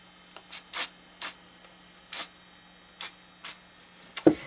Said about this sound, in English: And for the core, I just like to spray right into the middle of it.